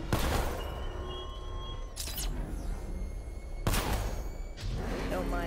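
Gunfire and impacts in Batman: Arkham Knight, loud sharp cracks cutting through a dense, continuous rumble of battle noise, with a couple of prominent bangs standing out.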